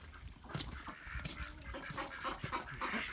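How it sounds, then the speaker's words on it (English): Ducks and geese in a barnyard quack and honk over one another in a busy, continuous chorus with some splashing in meltwater, close by and moderately loud, with no talking. "Hey, look at them beautiful ducks."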